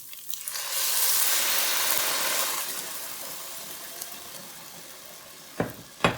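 Broth poured into a soup pot of tender vegetables and ground beef, a broad splashing rush that swells for a few seconds and then settles, ending with a couple of sharp clinks.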